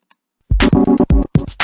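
Techno background music sound from a Scratch game project, loud punchy beats with a thumping bass and bright synth hits in short rhythmic bursts, close and alone after a brief silence.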